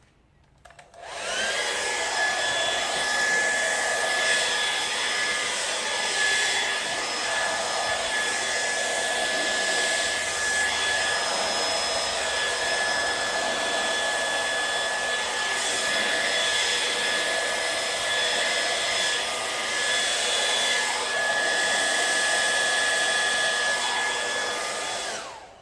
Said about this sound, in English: I'm going to put my hairdryer on cool setting. And on high.